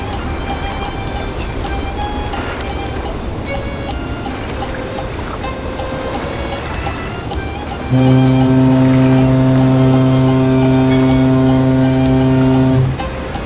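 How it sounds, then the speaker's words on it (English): A deep, steady boat horn blows for about five seconds over constant low harbor rumble and engine noise from boats working late at night on the water in Istanbul. "These boats are working pretty late."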